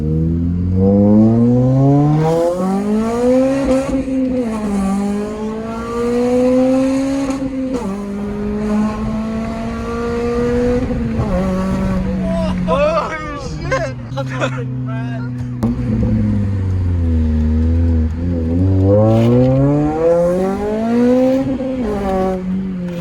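A Honda FN2 Type R with an aftermarket exhaust revs hard from close by, climbing through the VTEC crossover in repeated rising and falling sweeps, loud and raspy, with voices talking over it.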